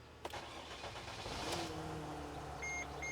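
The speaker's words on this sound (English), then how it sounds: "So the engine is running." A Mercedes / Dodge Sprinter van engine running at idle with the check engine light on, a steady low hum close by, with a brief knock at the start and a few short electronic beeps near the end.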